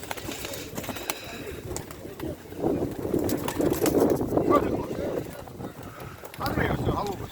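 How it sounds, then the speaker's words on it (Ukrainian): Pigeons coo among people talking at a pigeon and decorative bird fair, the soft calls mixed into a busy, murmuring crowd. "Які хороші голуби."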